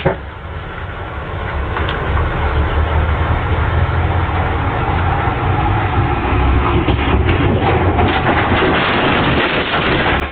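A train thunders past in a continuous heavy roar with rattling cars and clatter, loud and sustained throughout, in a crossing collision with a truck; no speech.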